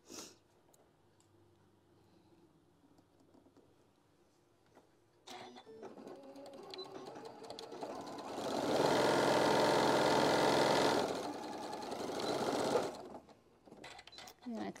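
A sewing machine stitches a template piece, running in a loud, steady burst mid-clip after quieter handling sounds, with a person talking nearby.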